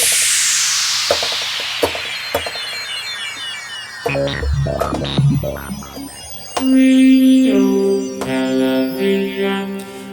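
A series of varied synthesized and sampled sounds triggered from a MIDI controller driving a sampler hosted in Nuendo: sweeping noise, percussive hits, then sustained tonal chords, fairly loud and with no talking.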